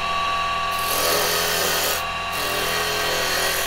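An old spindle gouge roughs a wooden bowl spinning on a lathe, a loud continuous scraping hiss with a steady motor hum, the cut easing briefly twice before resuming.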